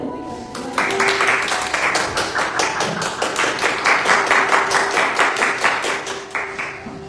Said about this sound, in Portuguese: Será que você pode se assentar nessa aplaudimento ao Senhor?